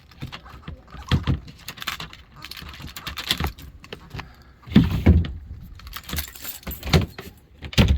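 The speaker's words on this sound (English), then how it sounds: "get the keys to the ignition" Ignition keys jangle and clink in intermittent metallic bursts, close by, with scattered rustling and handling noises between the louder shakes.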